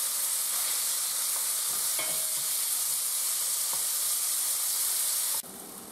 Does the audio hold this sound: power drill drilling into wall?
no